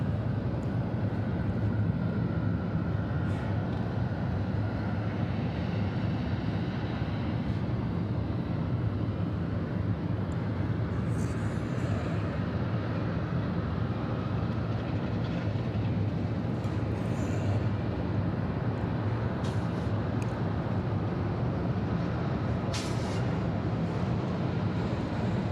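An arriving airliner comes in to land at Atlanta Hartsfield-Jackson airport on a hazy night, a steady low broadband roar of jet engines holding throughout, distant and continuous with no voices.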